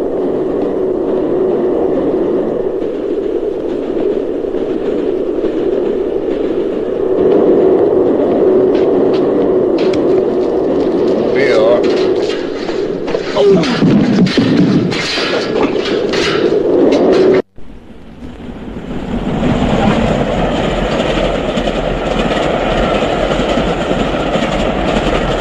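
A train rolls along the rails at close range, a steady rumble with clicking wheel beats that grows louder and rattlier before a sudden cut, then the running noise continues.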